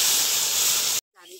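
Lentil dal tipped into a hot pan of spices and fried chopped onion hisses and sizzles loudly for about a second, then stops abruptly, followed by a short, faint voice.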